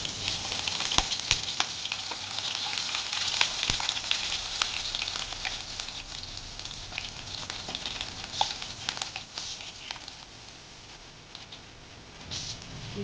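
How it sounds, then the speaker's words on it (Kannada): Green chillies frying in a hot pan with cumin while making egg keema, a steady close sizzle with scattered pops and crackles running throughout, no talk. "ಬ್ರೌನ್ ಆಗೋ ತನಕ ಫ್ರೈ ಮಾಡ್ಕೊಳ್ಳಿ. ಈಗ ಗ್ರೀನ್ ಚಿಲ್ಲಿನ ಆ್ಯಡ್ ಮಾಡೋಣ."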